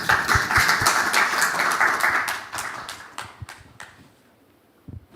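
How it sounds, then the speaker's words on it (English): A conference audience applauds in welcome, a dense burst of many hands clapping that thins into scattered claps and fades out over a few seconds. "please welcome them with a warm round of applause"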